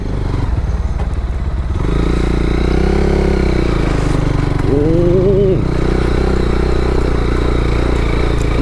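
Several motorbikes labour up a slippery hill road toward Sukhia Valley near Lama and Alikadam, a loud, steady engine drone with a brief rising rev partway through.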